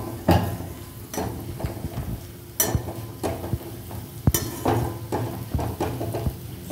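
A spoon stirs turmeric around a pan over a low flame, giving scraping strokes and sharp knocks against the metal at irregular intervals over a soft background sizzle.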